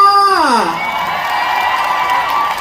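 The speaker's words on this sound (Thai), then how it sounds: "ขอเสียงปรบมือกับซิตรา" A concert audience in a hall cheers and shouts in a steady, loud roar of crowd noise, with a descending voice-like tone gliding down at the start.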